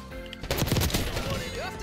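C9 submachine gun fire in the shooter Black Ops 6, a fast close burst of rounds starting abruptly and blending into game noise and brief effects, with a voice faintly underneath.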